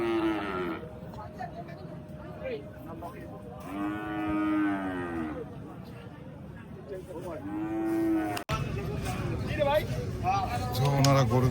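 Cattle at a cow market low and moo loudly several times close by, with a crowd talking and a busy background murmur.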